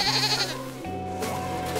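A cartoon mountain goat bleats in a couple of wavering, nasal calls on an icy mountain hike, heard alone over a soft musical backdrop.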